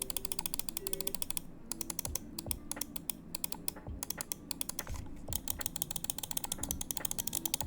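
Rapid, crisp clicks from the mechanical main buttons of an EWEADN S9 Ultra gaming mouse, a budget Viper clone, come in close, dense bursts of sharp ticks with brief gaps, with no one talking.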